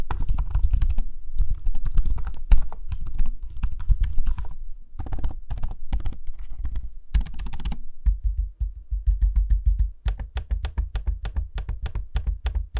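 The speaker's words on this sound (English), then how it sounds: "the noise of the keyboard and trackpad in use, and here's a sample so you can hear for" Keystrokes on an Asus ProArt StudioBook laptop keyboard, with some trackpad use, form a steady, close patter of quick clicks. Brief pauses break it, and a denser burst comes near the end. Nobody speaks.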